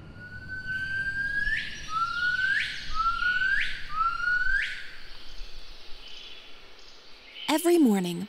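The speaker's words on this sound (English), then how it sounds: "mellifluous chirping can be heard above the canopies of Hainan's tropical rainforests" Hainan gibbons call in a tropical rainforest, a series of four rising, whooping notes repeated at steady intervals, fairly clear against soft forest ambience, with a brief sharper call near the end.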